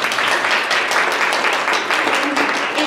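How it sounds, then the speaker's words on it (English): A parent audience applauds to welcome a speaker at a school college-counseling coffee, steady dense clapping for about three seconds with no break. "So we want to give him a warm welcome, a big round of applause for his extra 24 hours."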